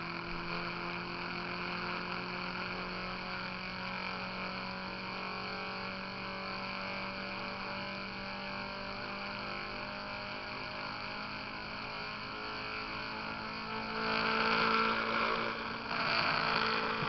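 A one-magnet Bedini motor running on super capacitors hums with a steady tonal whir that rises in pitch and loudness near the end as it revs up, close and alone without talk.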